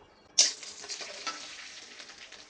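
Panch phoron seeds hit hot mustard oil with a sudden bright sizzle that flares at once, then settles into a fainter crackling fry with small pops.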